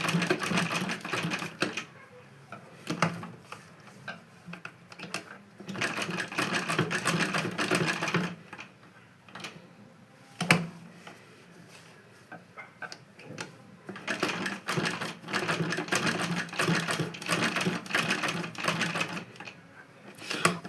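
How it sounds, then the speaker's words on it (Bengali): A hand-cranked sewing machine stitches after its broken belt is repaired, making close, rhythmic ticking runs that start and stop several times with brief pauses between. "এই যে দেখুন সেলাইটা হচ্ছে"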